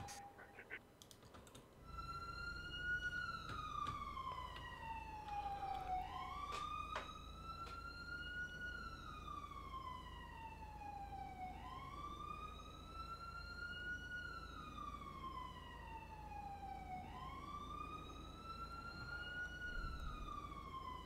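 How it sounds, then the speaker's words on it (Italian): A police car siren in the GTA V video game, played on a FiveM roleplay server, wails in slow rising and falling cycles, loud and continuous over a low engine and road hum. "Che fastidio sta sirena, mamma mia."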